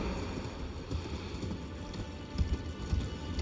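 Torrent the spectral steed galloping in Elden Ring, steady rhythmic hoofbeats pounding over ground, moderately loud under a constant ambient wash.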